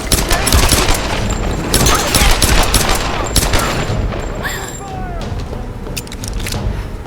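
Rapid gunfire in the 2013 Tomb Raider game, loud close bursts of automatic shots and booms in a dense, continuous barrage with a voice talking over it.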